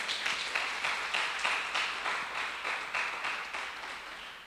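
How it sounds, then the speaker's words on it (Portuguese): Church congregation applauding God after a sermon: steady, dense clapping from many hands in a large room, fairly even and sustained, without talk over it. "Você pode dar um aplauso ao Senhor aí?"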